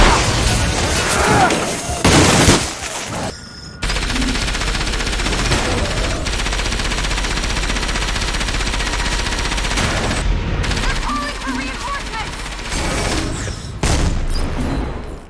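Sustained Gatling gun fire in the video game Enslaved: Odyssey to the West: loud, rapid, continuous bursts with heavy booming impacts, punctuated by a few brief pauses and louder crashes.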